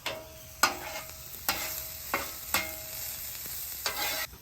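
Onions cooking on a flat-top griddle in a touch of leftover butter, a steady soft sizzle broken by several sharp spatula scrapes and taps spaced about a second apart.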